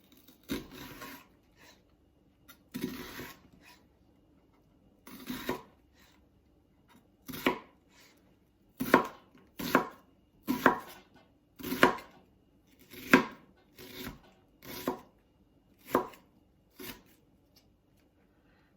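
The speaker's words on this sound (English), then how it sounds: "So this I'll just chop." A knife chops food on a board for a pinto bean soup: soft, sparse knocks at first, then a quicker run of crisp chops through the middle, close and quiet with no talk.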